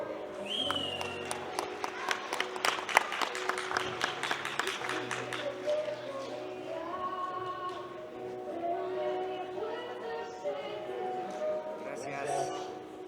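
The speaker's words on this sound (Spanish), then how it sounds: "Para que tengan los fuertes aplausos, por favor." Applause from wedding guests for the groom at a wedding reception, a dense burst of clapping in the first few seconds that thins out under music and chatter.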